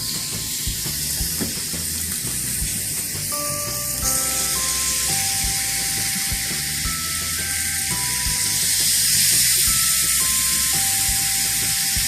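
Tuscan pork chops sizzling in a hot pan, seasoned side down, a steady loud hiss of frying fat with light clinks of utensils as more chops are added, no talking.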